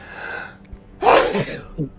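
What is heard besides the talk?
sneeze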